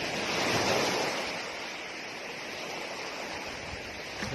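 Sea waves at Bani hidden lagoon beach in Pangasinan, a continuous rushing wash of surf mixed with wind, loudest at the start and then settling into a steady roar without any talking.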